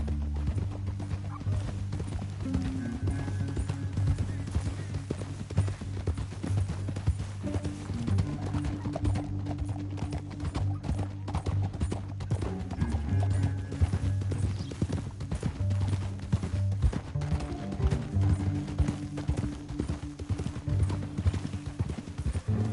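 Video game horse hooves clip-clop in a steady galloping rhythm throughout, from Red Dead Redemption 2, with occasional horse snorts over a low rumbling background.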